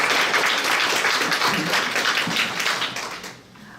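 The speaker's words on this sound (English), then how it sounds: "You can now applaud." An audience at a gubernatorial candidates forum in Maryland applauds with steady, dense clapping that carries on for about three seconds and then fades away.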